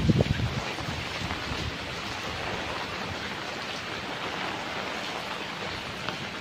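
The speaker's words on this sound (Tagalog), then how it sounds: "Lakas ng hangin." Strong wind and heavy rain from Super Typhoon Rolly under a Signal No. 4 warning, knocking down garden plants: a dense, loud, continuous roar of gusts and pouring rain that holds steady throughout.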